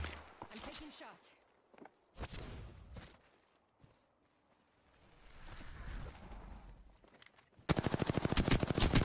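Rapid automatic gunfire in a battle royale video game, with scattered earlier shots and footsteps giving way to a loud, fast rattling burst near the end while a player talks.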